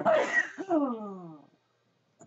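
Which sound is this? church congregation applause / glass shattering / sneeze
sneeze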